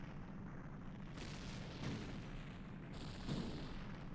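A rumbling explosion from The Legend of Zelda: Ocarina of Time, in the game's final showdown, sounds as a dense, sustained roar with swells of deeper booms.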